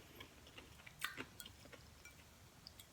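Someone chews a homemade Mississippi Delta tamale with coleslaw, close and quiet, with soft crunches and squishy bites coming in an irregular rhythm and no talk.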